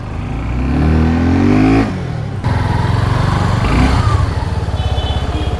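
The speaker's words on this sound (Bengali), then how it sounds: "এক্সজস্টের সাউন্ডটা আগের থেকে বেটার লাগতেছে আমার কাছে।" A Suzuki Gixxer SF 250 single-cylinder motorcycle engine and exhaust on a ride. It sounds close and loud, with a revving rise, a brief gear-change dip and then a steady throbbing exhaust note.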